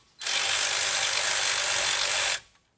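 A ratchet spins a nut onto a bolt in one continuous, loud, close burst of rapid pawl clicking lasting about two seconds, fitting a rear coilover on a Mercedes W211 E55 AMG or E500 in place of the Airmatic suspension.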